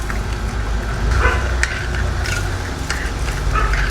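Pork karahay frying in a pan and being stirred, a close, steady sizzle with scraping and clinking from the spoon.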